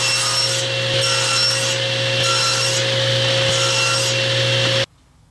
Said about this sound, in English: all I'm going to do is run this through the table saw and cut a kerf all the way across in order to open this up